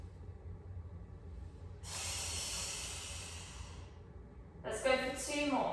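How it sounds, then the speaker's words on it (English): Slow, deep breathing during a core stabilising exercise: a long, steady breath of airy hiss lasting a couple of seconds, then a shorter, stronger breath with a voiced sigh, close to the microphone. "Deep breath in."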